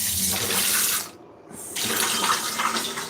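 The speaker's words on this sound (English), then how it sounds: "So I'm gonna put my eggs on some running cold water." Cold tap water streams steadily from a faucet over boiled eggs, a loud close hiss of running water that cuts out briefly for a moment before resuming just as strongly.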